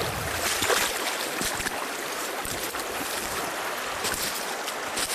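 Rushing creek water splashes steadily as someone wades across a stream in Pennsylvania game lands during a flintlock deer hunt, a continuous close wash of water with no talk.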